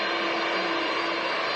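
Aer Lingus jet airliner departing Manchester Airport, a steady, loud broadband engine roar holding constant throughout with no voices.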